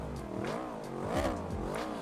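Yamaha R1M motorcycle engine in the Ride 5 racing game, revving in a few rising and falling sweeps, loud and close with no talk over it.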